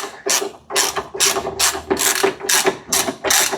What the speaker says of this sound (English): then get our 15mm on the ratchet